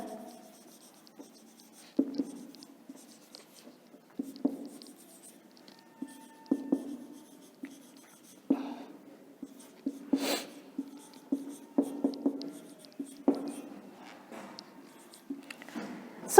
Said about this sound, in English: Let me write here.